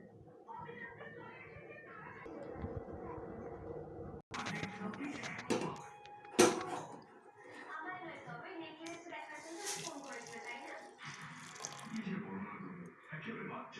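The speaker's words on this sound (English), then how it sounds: "Now add hot water in it." Hot water pours and splashes into a pan of fried rice and vegetables with clinks of utensils, while a person talks over the running water.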